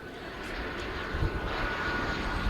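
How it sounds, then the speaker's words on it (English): A Dornier 328 turboprop aircraft at an air show, with a steady high-pitched turbine whistle over a broad engine roar, continuous and fairly close. "The distinctive whistle of the turboprop, which is essentially a jet turbine driving propeller blades."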